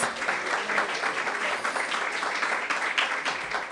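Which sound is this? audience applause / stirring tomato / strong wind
audience applause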